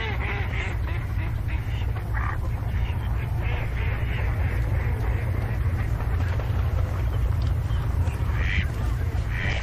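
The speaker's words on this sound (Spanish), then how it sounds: "Cercetas, porrones y azulones" Wintering ducks, including teal, pochards and mallards, gather on lagoons in a dry natural landscape, their quacks and calls scattered through a steady, dense wash of flock and background noise with no voices.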